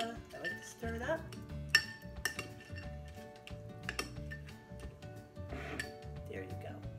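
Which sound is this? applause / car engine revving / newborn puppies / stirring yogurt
stirring yogurt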